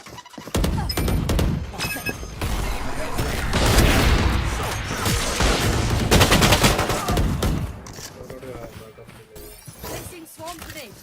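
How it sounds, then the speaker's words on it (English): Swarm grenades in the Valorant video game detonate amid a dense, continuous barrage of game gunfire and blasts that stays loud for most of the stretch, with speech-like game voice lines mixed in. "Placing swarm grenade."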